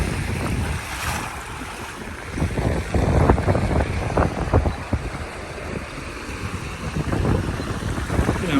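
Wind buffets the microphone over water splashing against a moving boat's hull on a ride from Georgetown to Shell Island, South Carolina, with intermittent slaps and rushing spray, no speech.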